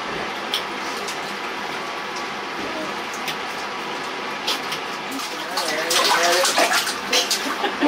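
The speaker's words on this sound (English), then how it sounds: "Are you splashing?" Water sloshes and splashes in a bathtub as a child plays, a continuous watery wash that grows louder and choppier toward the end, with bursts of splashing.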